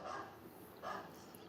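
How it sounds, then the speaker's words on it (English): A dog barks twice in the distance, muffled and fairly faint against a low background hum. "Sorry for the barking in the background."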